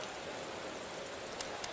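Steady rain in the Motorsport Manager racing game, a soft continuous wash of rainfall with a couple of faint sharper drops, quiet and even throughout with no voices.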